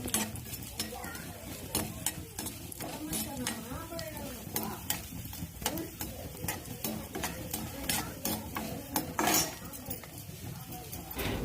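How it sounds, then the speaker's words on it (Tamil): Raisins roasting in a pan for laddu, stirred continuously with a metal spoon: repeated sharp scrapes and clinks over a soft sizzle, close and fairly quiet throughout. "அது கூட நாம் தேவையான அளவுக்கு திராட்சை சேர்த்துக்கணும். ரெண்டத்தையுமே நல்லா வறுத்துக்கணும்."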